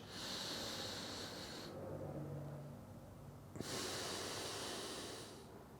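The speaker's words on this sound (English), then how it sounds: "And I'm doing the same breathing pattern" Slow deep breathing during a 90/90 hip lift exercise: a long airy hissing exhale, a quieter pause, then another strong breath, close and steady with no talk.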